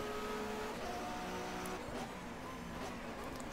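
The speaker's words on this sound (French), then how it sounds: "la Vauxhall Cavalier qui quand même fait un bruit légèrement différent" A Vauxhall Cavalier touring car from the 1995 BTCC season races at Silverstone in the GTR2 game, its engine a steady, sustained drone with shifting pitch over faint background racing noise.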